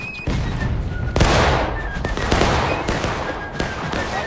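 Musket volleys in the Civil War game War of Rights, several loud irregular cracks and booms from nearby lines of rifles, layered over a constant din of battle, with no talk.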